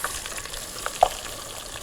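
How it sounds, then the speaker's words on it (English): Onions fry in a pan during a morning television cooking segment, giving a steady close sizzle with a few small pops and crackles. "So I'll be frying my onions first."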